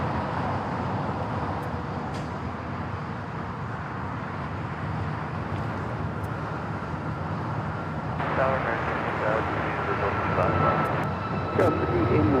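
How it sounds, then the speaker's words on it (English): Southwest Airlines Boeing 737 MAX 8 taking off at LAX, a broad steady jet roar that swells louder toward the end as the aircraft powers up and departs. "Next takeoff is a flight heading to Vegas, 737 MAX 8,"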